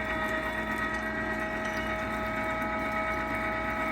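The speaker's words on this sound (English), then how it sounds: "today we're going to talk about the LEM number 8 half horsepower meat grinder, and we're going to give a little demo of it" LEM #8 half-horsepower electric meat grinder running while grinding pork: a steady, even motor whine and hum, close and continuous with no talking.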